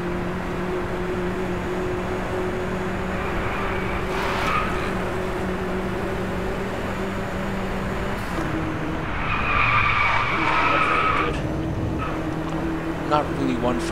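Racing car tires skid and squeal in the Driveclub video game, with a steady engine drone throughout and a sharper, louder squeal near the end.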